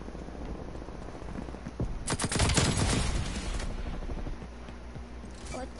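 A nail gun firing in Call of Duty: Black Ops Cold War, a quick cluster of sharp shots around two to three seconds over a steady hum of game ambience, then quieter scattered clicks.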